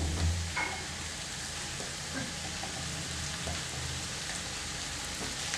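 Mutton for cutlets fries in hot oil with vegetables and spices, giving a loud, steady sizzle close by with faint stirring beneath it.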